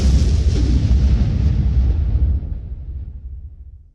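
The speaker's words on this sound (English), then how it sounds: "The Dalek then exploded." A Dalek explodes as a sound effect in a Doctor Who fan story: a loud, deep blast that rumbles on and fades away over a few seconds, with no voices.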